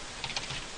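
A handful of quick keystrokes on a computer keyboard, close and fairly quiet, with a couple of distinct clicks in a brief burst.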